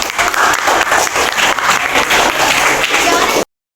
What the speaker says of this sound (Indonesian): tepuk tangan duanya